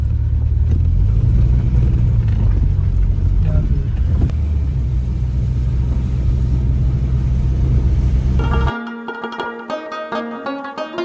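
Vehicles idling and creeping in a traffic jam on a snowy, landslide-hit mountain road near Kalam in Swat; a steady engine rumble and road noise fill the scene, then give way near the end to a brief tonal, horn-like sound.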